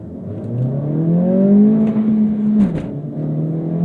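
A modified Acura Integra A-Spec pulls at full throttle, its engine note climbing steadily in pitch toward the rev limit, then a brief break at a shift before the drone continues, loud and close.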